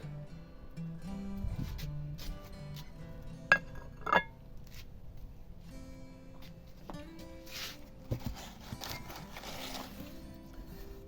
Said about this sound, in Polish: Tu mamy też jakiś talerzyk, ale to już chyba szkło